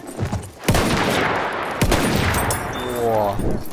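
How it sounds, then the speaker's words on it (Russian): Gunfire in the World War I shooter Battlefield 1: two sharp, loud shots about a second apart, followed by a rising mechanical whine, with rumbling battle noise throughout and a player's voice briefly at the start. "О, точно выстрел."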